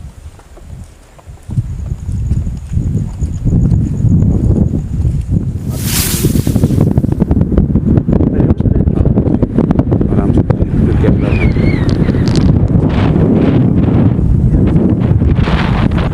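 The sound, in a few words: strong wind blowing on microphone at night, Rohtas Fort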